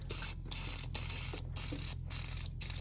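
A PB Blaster penetrating oil spray can fires in repeated short hissing bursts, about five spurts separated by brief gaps, close and fairly loud over a faint low hum.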